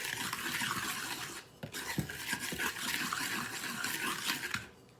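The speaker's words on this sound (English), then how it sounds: "And stir that in." A cup of leveled all-purpose flour is stirred into red velvet cake batter in a bowl, giving a steady close scraping, rubbing swish that runs continuously with one brief pause.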